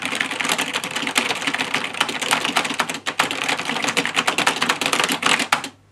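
Rapid continuous key clatter from a 1995 Sharp Font Writer FW-700 word processor keyboard, dense and close, running without pause before stopping abruptly.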